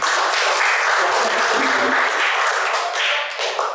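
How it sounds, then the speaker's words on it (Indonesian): A crowd applauds steadily, a dense wash of clapping that holds for several seconds before tapering slightly at the end. "luar biasa. Tepuk tangan dulu."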